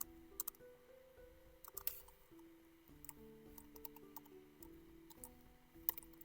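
Someone types on a computer keyboard set up for Greek, quiet scattered key clicks in short irregular bursts over a soft tonal background, close by with no speech.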